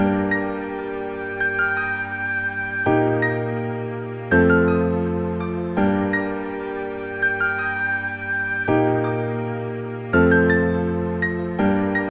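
Slow, melancholy piano melody over sustained low chords, the changes arriving every few seconds, soft and reflective with no voices.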